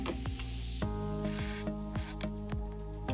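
A drill bit test-drills into a wooden block with a grinding, rhythmic churn, close and fairly quiet, with no voices.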